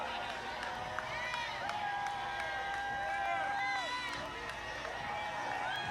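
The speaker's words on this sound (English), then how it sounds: "you hear the tremendous amount of applause for the players, too" Crowd cheering and applauding players at a women's basketball celebration parade, a broad roar of voices and whoops with scattered claps, outdoor and moderately distant, with talk and babble throughout.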